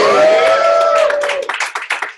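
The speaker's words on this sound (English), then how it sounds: "Clap it up for that" An audience at a Herbalife company meeting clapping, opening under a sustained cheering voice, then breaking into scattered, separate claps that grow sparser toward the end.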